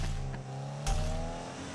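A Subaru BRZ launching from the line in Need for Speed 2015, a loud revving engine with a brief tire chirp and a sharp gear change midway, then continuing acceleration.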